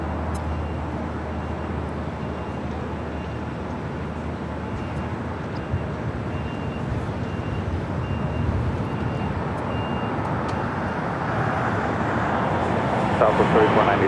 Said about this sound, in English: Air Tahiti Nui Flight 8 now rolling on 25 right.